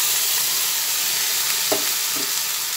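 Mixed winter vegetables cooking in a pan as a bowl of water goes in, a steady loud frying hiss with a couple of short splashy bursts near the end, no talk.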